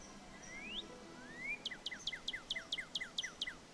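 Two rising whistled slurs, then a fast run of sharp, descending chirps repeated about ten times: a clear northern cardinal song from the video game Nancy Drew: Ghost Dogs of Moon Lake, over quiet background hiss.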